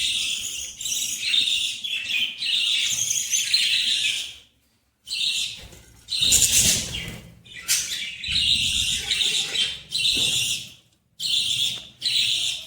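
Pet birds in a clay nesting pot chirp and twitter in dense, loud, close bursts that keep repeating, broken by a few short pauses, with no one talking.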